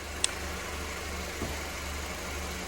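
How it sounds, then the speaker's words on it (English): A car engine idles steadily at low volume, a constant low hum with a brief sharp click near the start and a faint soft knock midway, with no talk. "I'm going to be starting my car"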